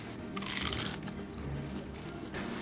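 Crisp, close crunching as teeth bite into greasy, crunchy battered fish from a fish and chips shop, with loud crackling bursts followed by softer chewing.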